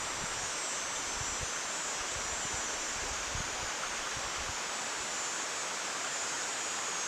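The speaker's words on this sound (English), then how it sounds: "I really hope the camera's picking up like the sound of the water" Flowing water outdoors, a stream or waterfall, makes a steady broadband rush with low rumbling gusts, moderately quiet and continuous throughout.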